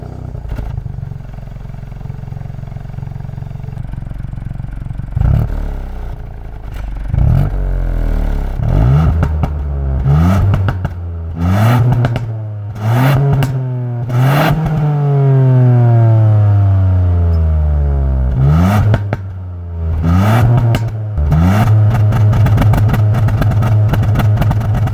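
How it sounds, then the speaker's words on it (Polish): A Ford Puma ST with its 1.5 EcoBoost three-cylinder turbo engine accelerates hard, the loud raspy exhaust climbing through repeated revs with sharp pops and crackles at each gear change, close and alone. "posłuchajcie, jak dobrze brzmi wydech."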